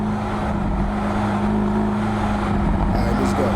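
Mercedes SLS AMG engine heard from the cabin while accelerating and downshifting, a steady low rumble with a droning tone and rising revs near the end, moderately loud and continuous.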